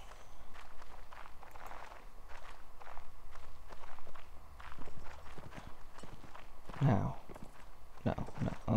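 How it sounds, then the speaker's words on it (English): Horse hooves in the Mount&Blade Warband video game (Red Wars mod) clatter amid a busy battle soundscape of footsteps and clashes, with a louder burst near the end and voices talking over the action. "That's our horse."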